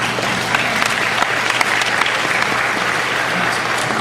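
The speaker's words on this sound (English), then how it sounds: "Applause for common sense." A convention hall crowd at a Doctor Who panel at San Diego Comic-Con 2008 breaks into steady applause, many hands clapping together at close range with faint scattered cheers mixed in.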